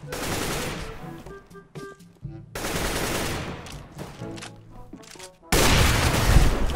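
Rapid automatic gunfire from CS:GO, the counter-strike shooter, bursts in dense loud volleys with brief gaps between them, ending in a heavier sustained barrage; faint voices appear beneath the shots.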